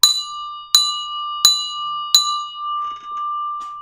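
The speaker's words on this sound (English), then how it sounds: "Oh, I can also ring that bell." A handheld bell is struck four times at a steady pace to mark the stock market close, each bright ring sounding close and loud and then fading.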